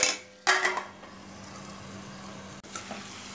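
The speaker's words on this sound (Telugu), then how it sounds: "ఇప్పుడు ఒక 2 నిమిషాలు మూత పెట్టేసుకుందాం" A lid set onto a cooking pot of tomato curry, a sharp metallic clank with a short rattle, followed by quiet simmering hiss and a second lighter knock a few seconds later.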